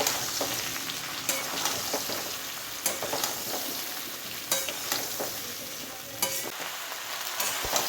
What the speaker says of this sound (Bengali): কুলগুলি দিয়ে ভালো করে নেড়ে নেব।